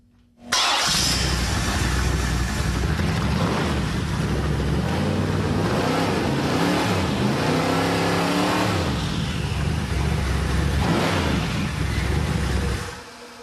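A twin-turbo small-block V8 engine fires up and revs hard, its loud, close, throaty roar rising and falling through several throttle blips before cutting off abruptly, with no voices.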